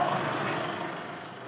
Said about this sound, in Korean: 지금 촬영할 때 차들이 많이 돌아다니긴 하는데